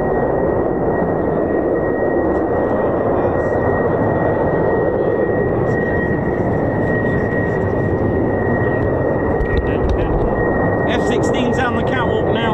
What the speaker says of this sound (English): sounds like F-16s.